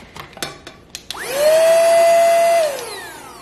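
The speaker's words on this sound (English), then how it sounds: "this little vacuum cleaner has come in clutch just for any little minor spills that you don't want to get your big vacuum cleaner out for" A small handheld vacuum cleaner powers up after a few soft knocks and clicks, runs with a steady high whine for about a second and a half, then spins down, close and alone.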